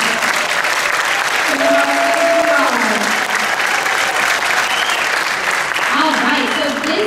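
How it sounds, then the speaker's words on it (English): Loud, steady applause from a concert audience fills the whole stretch, with a voice or two rising above the clapping and brief vocal tones sounding underneath. "So let's give them a big round of applause because they're behind me."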